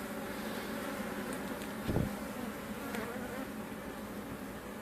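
Honeybees at an open hive with a migratory cover, a dense steady buzzing swarm close to the microphone, with one brief louder thump partway through.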